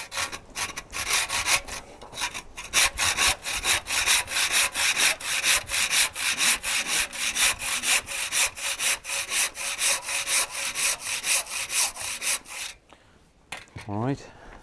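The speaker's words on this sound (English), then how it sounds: "I'm taking the bulk of the material out with the saw" A hand saw cuts out old stone for an indent repair in traditional masonry conservation, a close, loud run of quick, even rasping strokes that ends in a brief quieter scrape.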